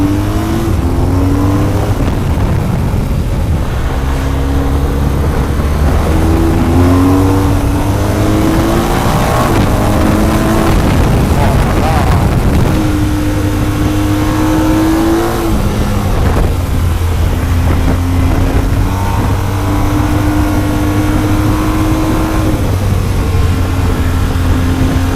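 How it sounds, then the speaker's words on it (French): BMW R1250 GS motorcycle engine running steadily while riding, with the tone climbing and dropping through gear changes, a loud, close, continuous drone with no talk over it. "Il aurait jamais dû me faire essayer cette moto, Mathieu."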